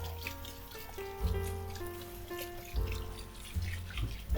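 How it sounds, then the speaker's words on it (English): Cool tap water pours over blanched tomatoes in a kitchen sink, a soft, steady running splash with faint shifting tones as the flow hits the fruit and bowl. "run some cool water through it."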